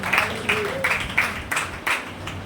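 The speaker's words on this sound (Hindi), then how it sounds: "अभी ताली बजा." A church congregation claps during a sermon, a rhythmic series of roughly eight clustered bursts of hand claps from a crowd in a reverberant hall.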